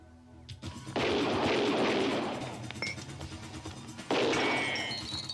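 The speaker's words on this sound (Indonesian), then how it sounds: "Sing dan pamannya yang mendengar suara tembakan" Gunfire from an attack on a house, with loud bursts of shots that swell at the start and again near the end, dense and crashing like rapid automatic fire, no voices heard.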